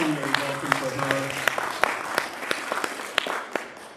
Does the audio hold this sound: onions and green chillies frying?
no